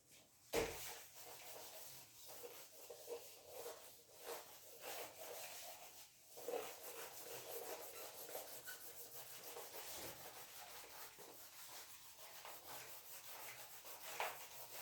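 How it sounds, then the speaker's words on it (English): Writing being rubbed off a board, a steady soft scraping and rubbing that runs continuously, close and alone without talk. "So this I'll rub it now."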